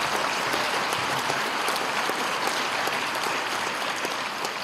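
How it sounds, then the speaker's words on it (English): Steady applause fills a junior high awards night as students are honored, dense continuous clapping from a seated audience, even and unbroken throughout with no voices over it. "let's have a round of applause for our students who have achieved honors in one class"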